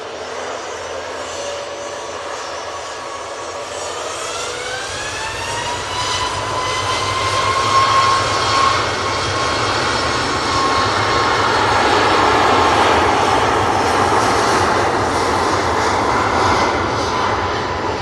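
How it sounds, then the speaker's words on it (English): A Ryanair airliner on its takeoff roll at Manchester Airport builds into a loud, rising jet roar with whining engine tones that climb in pitch, swelling steadily and holding strong to the end. "Ryanair on the roll"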